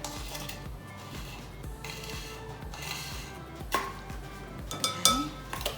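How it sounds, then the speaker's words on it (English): A spoon or whisk scrapes and clinks in a bowl while baking powder is mixed into flour for a sour cream cinnamon coffee cake, making steady close scratchy strokes with a few sharper knocks near the end. "I'm gonna mix this into my flour."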